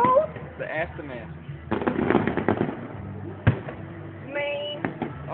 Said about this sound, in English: Thank you, Mother Nature, for letting us have our fireworks.